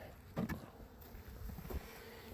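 Honeybees buzzing around a backyard hive on a sunny day, a faint, steady hum with a couple of brief knocks near the start and again later.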